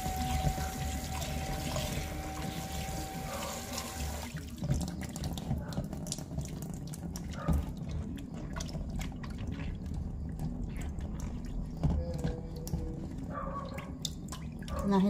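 Tap water runs steadily into a sink while vegetables such as okra are rinsed, a close continuous splashing stream with shifting flow and occasional handling clatter, a voice speaking briefly over it.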